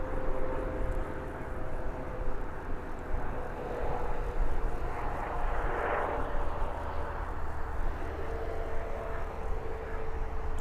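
A fixed-wing aircraft taxis at Birmingham Airport, its engines giving off a steady, moderately distant drone with a faint whine and gentle swells over about ten seconds, no talk.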